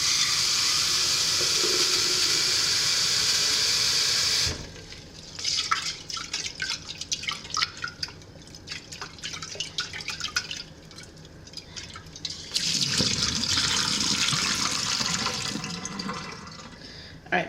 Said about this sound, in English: I'm just gonna rinse it. That's what you do.